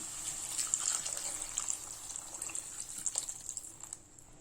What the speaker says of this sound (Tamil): இப்போ இதில் நம்ம தண்ணி சேர்த்துக்கலாம்.